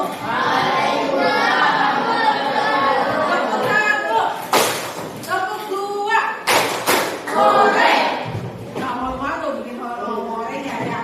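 A class of schoolchildren claps in short rhythmic bursts of patterned clapping, sharp and close, interleaved with children's voices chanting and speaking.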